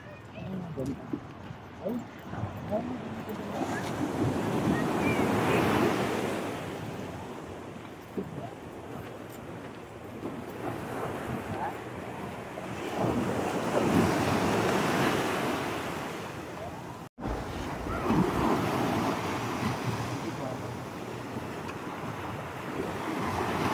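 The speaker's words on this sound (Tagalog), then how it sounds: "Ay, ang lakas ng alon." Strong ocean surf roars and surges in long swells, with wind buffeting the microphone and people talking underneath.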